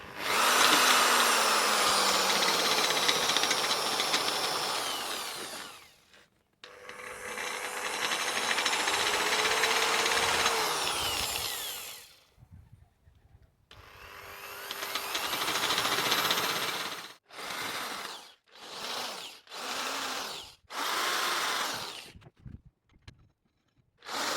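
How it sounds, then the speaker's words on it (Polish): A power drill with a grinding stone attachment whirs in two long, steady runs, then in a string of short bursts, loud and close, as it grinds a burr off metal. "można to wziąć szlifierkę na wiertarce, kamyczek i wyszlifować to"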